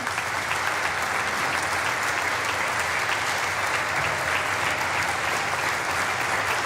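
Lawmakers at a joint session of Congress give police a standing ovation, a thick, continuous roar of clapping that stays full and steady from start to finish.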